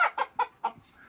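Chickens in a backyard coop cluck in a quick series of four or five close, loud calls, a softer cluck trailing at the end.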